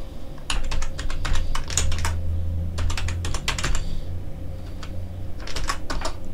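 Computer keyboard typing in bursts of quick clicking keystrokes with short pauses between runs, close and fairly clear over a low steady room hum, with no voices.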